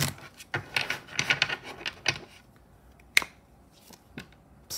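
Quick papery riffles and soft slaps as tarot cards are shuffled by hand, a burst of shuffling followed by a few scattered taps, close up and fairly quiet.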